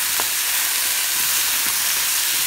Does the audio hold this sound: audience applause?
no